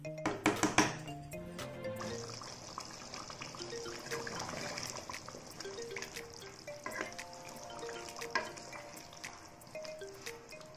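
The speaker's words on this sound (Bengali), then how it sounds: "আমি এটা কড়াইতে ঢেলে নেব।" Cooked mutton and its gravy slide out of a pressure cooker into a kadai, with wet pouring and trickling, clinks of metal on metal and a faint sizzle, close up and without talk.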